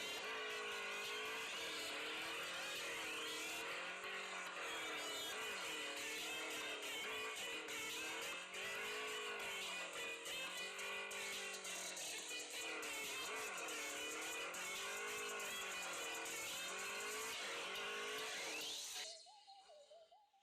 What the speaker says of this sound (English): pick one of the exciting drift racing modes and burn your tires